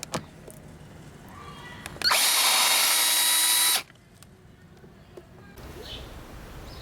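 A power drill backing screws out of a rear speaker in a 2006 Pontiac GTO, one loud whirring burst of about two seconds between quieter stretches with small handling clicks.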